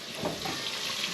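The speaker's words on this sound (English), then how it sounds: "frying up some porgy" Seasoned porgy fish frying in a pan on a home stove give a steady, soft sizzling hiss, fairly faint and alone.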